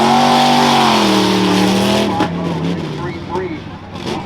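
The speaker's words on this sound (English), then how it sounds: "Mark DeVitis out of Fredericktown, driving a 2001 Jeep Cherokee four-wheel drive called the Hellraiser" A 2001 Jeep Cherokee four-wheel-drive rough truck in the modified class at the Hartford Fair: a loud, steady engine drone that sags slightly in pitch for two seconds, then drops to a rough rumble under an announcer's voice.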